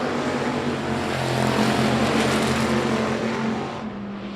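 Race cars roar down the backstretch at I-37 Speedway in a dense, continuous engine drone with steady tonal hum, loud and sustained before easing slightly at the end.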